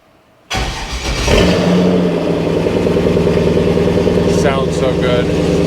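An engine is cranked over and catches with a sudden loud start, then settles into a steady running rumble, with a faint voice briefly over it near the end.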